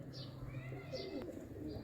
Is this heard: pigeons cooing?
yes